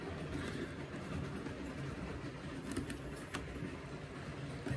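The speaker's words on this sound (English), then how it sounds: "Let's just get this down on the track. We'll give it a very quick run test." A Hornby model train locomotive runs along its track in a steady, continuous low rumble with faint clicking, moderately quiet and without talk.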